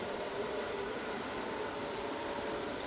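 A hair dryer blows steadily over curled hair, a faint, even whooshing hiss that holds unchanged throughout with no voices.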